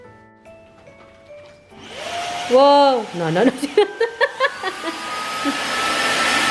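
A new vacuum cleaner runs, starting with a rising whine, then settling into a loud, steady roar that is close and continuous, with people exclaiming briefly over it.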